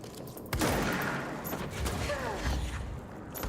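Video game gunfire aimed at the player comes as a dense burst of rapid shots with sharp cracks and mechanical clatter. A louder volley starts about half a second in and continues with scattered shots to the end.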